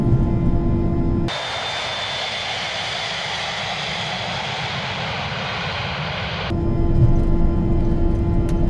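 Dassault Falcon 900 three-engine jet at takeoff thrust, a steady broadband roar from inside the cockpit with a high whine, cutting in sharply and dropping back to a lower cabin hum near the end.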